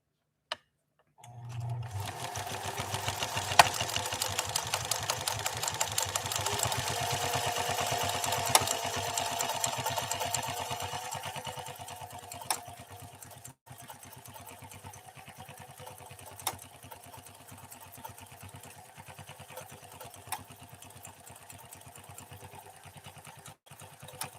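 A Pfaff 332 sewing machine starts up and stitches with a fast, steady mechanical whir and rapid needle ticking, loud at first and then settling to a softer, lighter run for the rest, with no speech.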